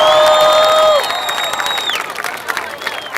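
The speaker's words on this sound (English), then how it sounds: "can we give a big round of applause to the guy that organized this whole event" A crowd cheers and applauds Vice Mayor Rex Richardson at an Uptown community event. Bright tonal whistles and shouts come first, then loud scattered clapping and voices carry on through the rest, close and lively.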